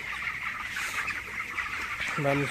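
Young 22-day-old chickens cluck and murmur in a pen just before feeding, a busy low chatter with a clearer, louder call near the end.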